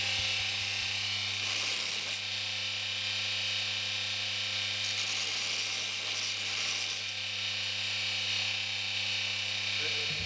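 A hammer head is worked with abrasive grits, a steady buzzing rasp over a constant low motor hum, with the grinding swelling louder in two stretches and no voices.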